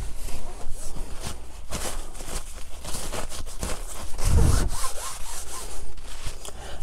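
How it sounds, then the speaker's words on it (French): Brisk back-and-forth scrubbing and wiping on a car seat belt strap and buckle during cabin disinfection, a steady rasping rub repeated close by with a heavier swipe near the middle, no talking. "Donc je vaporise et je vais nettoyer ma ceinture. Je vais nettoyer la sangle ainsi que la boucle."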